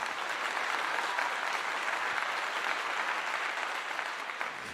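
A crowd applauds steadily, many hands clapping in a dense, even wash of sound that holds throughout.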